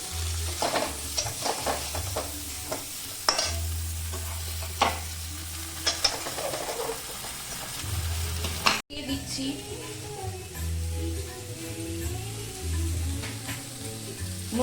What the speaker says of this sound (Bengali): আমি সব সবজি কিন্তু কোনো তুলিনি কড়াতেই ভাজছি